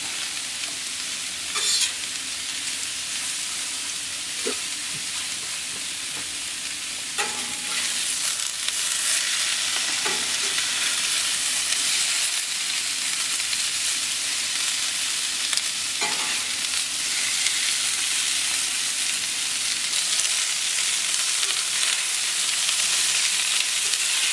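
Porcini mushrooms fry in a pan with a steady, close sizzle and crackle throughout, broken by a few occasional stirring scrapes and taps.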